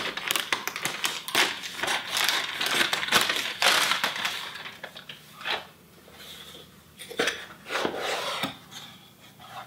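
A Mission Belt package is opened by hand, giving a run of close, dry rustling and scraping bursts, irregular and busy at first, then sparser toward the end, with no one speaking.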